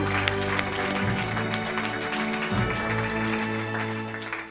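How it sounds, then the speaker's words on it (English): Applause at the Filmfare OTT Awards 2024 as a guest is welcomed on stage, a continuous crowd clapping beneath sustained music-like tones. "Please join me in welcoming Mr. Rizwan Sajan on stage with a huge round of applause"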